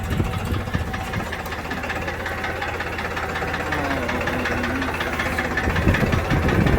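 A Farmtrac tractor engine runs steadily and loudly close by while ploughing a field, a continuous rumbling drone with a knocking vibration that grows slightly stronger toward the end.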